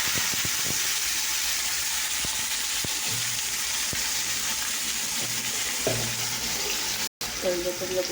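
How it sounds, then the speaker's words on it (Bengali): Potatoes added to hot oil with onion and green chilli frying in a pan, a steady broadband sizzle running throughout with occasional utensil clinks and stirring knocks, close and continuous, with a faint voice in the background. "তেলটা গরম হয়ে গেছে। এবারে আমি আলুটাকে দিই।"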